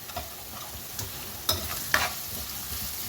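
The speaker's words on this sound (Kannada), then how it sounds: "ಹಸಿ ಶುಂಠಿ ಹಾಕ್ತಾ ಇದ್ದೇನೆ ನೋಡಿ." Fresh ginger added to a pan with curry leaves and green chillies crackles and sizzles in hot oil for a vegetable toast filling, a steady close hiss with a few sharp spattering pops.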